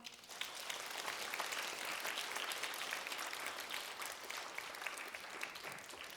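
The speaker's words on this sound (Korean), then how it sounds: "다시 한번 박수 부탁드립니다" Applause fills the hall at an awards ceremony for a memory and hope painting contest, a steady, even round of clapping from a seated audience, fairly soft and continuing throughout without talk.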